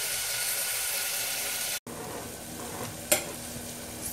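Onions frying for mutton curry in a pressure cooker, an even close sizzle broken by a brief cut, then continuing with a single sharp stirring clatter.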